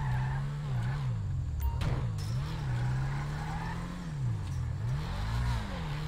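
A car engine in GTA V idling and revving, a steady loud drone whose pitch rises and dips in smooth swells, with a few sharp knocks over it and no talk.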